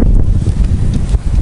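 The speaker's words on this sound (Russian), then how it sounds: "Вот это ветер." Strong wind buffets the microphone outdoors beside a camping wood-chip stove, in loud, rumbling gusts, a dense low roar with no pauses.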